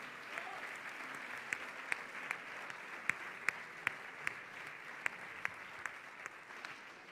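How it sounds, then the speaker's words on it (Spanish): Applause from the audience at a sports awards gala, a steady crowd clapping with a few sharper individual claps standing out, sustained for the whole stretch at moderate distance. "Fuerte aplauso para Tomás Sánchez Hernández"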